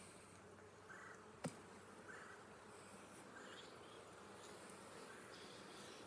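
Honeybees hum in a soft, steady drone around an open beehive during a Demaree split, faint and continuous, with a single sharp tap partway through.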